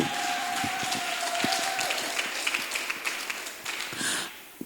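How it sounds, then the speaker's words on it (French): Applause for the women authors at a preschool teaching guides launch in the DRC, a dense crowd clapping steadily that fades out near the end. "Est-ce que nous pouvons applaudir pour ces dames?"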